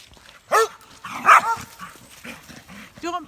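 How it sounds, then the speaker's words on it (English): Dogs barking happily beside a flooded river after heavy rain, several sharp, close barks and yips in short bursts with brief gaps between them, outdoors. "Don't be frightened of the barking, it's just happy barking."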